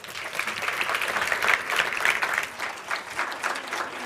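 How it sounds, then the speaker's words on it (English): At a World Cancer Day project showcase, a room full of people claps steadily, a dense patter of applause that swells slightly and then eases off. "Please give them a warm applause."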